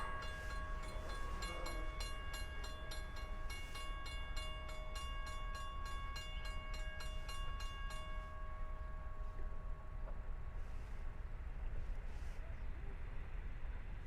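Strasburg Railroad steam engines 89 and 90 passing with an SW8 diesel: a heavy, continuous low rumble with a sustained whistle tone over the first eight seconds, close and loud, with faint voices underneath.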